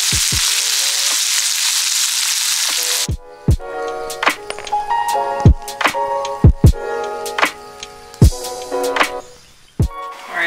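Coconut milk pours into a simmering chickpea curry, a loud steady sizzle giving way to bubbling pops and the scrape and clink of stirring in the pot.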